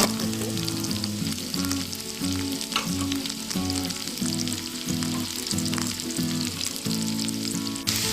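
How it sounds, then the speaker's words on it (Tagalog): Whole peppercorns and onion fry in a pan for escabeche, a loud continuous sizzle and crackle with stirring throughout and a low droning hum beneath, no voices. "Tapos ilagay ko na ang pamintang buo at saka ang ating sibuyas."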